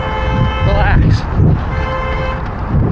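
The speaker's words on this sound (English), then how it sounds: "They're not honking at me, just for the record." Car horns honk in street traffic, a couple of short toots amid road noise, with people talking nearby over the top.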